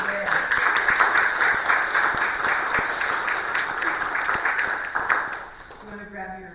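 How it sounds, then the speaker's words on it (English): Congregation applause at a Sunday church service, a room full of clapping with distinct individual claps audible, fading out near the end as a voice begins to speak. "Let's have a little round of applause for this day."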